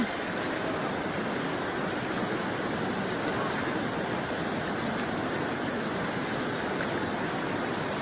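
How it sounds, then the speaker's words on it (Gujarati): Strong flood water surges through the breached embankment of the Ojat river, a dense, continuous roar that stays loud and steady throughout with no voices. "આ પાણીનો ફૂલ પ્રવાહ છે, અહીંયા ઉભાતું પણ નથી"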